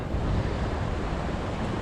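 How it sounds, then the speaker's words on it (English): A small man-made waterfall beside a bridge gives a steady, loud, broadband rush of falling water that stays unbroken with no voices. "Right here is a little man-made waterfall with the bridge."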